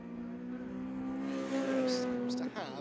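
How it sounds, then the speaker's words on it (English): Saloon race cars, including a BMW and a Seat Leon, race at Kirkistown circuit in 2019. A single engine note climbs and holds, then cuts off sharply near the end, with a commentator talking over it. "They're really racing away now from Gavin Kilkey in the BMW."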